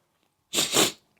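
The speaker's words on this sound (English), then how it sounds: "Oh, sorry about my sniffles." One short, sharp nasal sniffle bursts out loud and close during a grip and forearm workout, with silence on either side.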